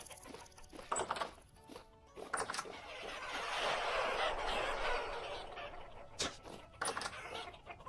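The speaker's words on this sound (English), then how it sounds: "I'll never get over the sea of chickens." Chickens in the video game Vintage Story cluck and murmur at low level, a dense flock sound with scattered short bursts over a continuous soft background wash.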